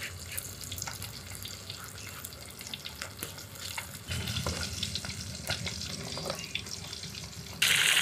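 Pieces of katla fish frying in hot oil, a steady crackling sizzle that grows louder and denser midway, with watery bubbling and a brief harsher burst at the end.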